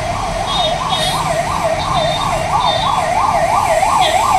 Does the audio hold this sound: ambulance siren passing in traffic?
yes